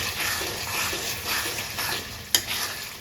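Spice paste with tomato frying and being stirred for a chicken curry with potatoes, a close steady sizzle with rhythmic scraping strokes of the spoon and a sharp clink against the pan near the end.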